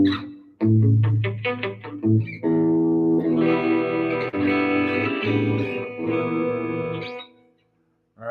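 An electric guitar plays a bright, clean tone alone, starting with a quick run of picked single notes, then sustained ringing chords with some effect shimmer that fade out near the end.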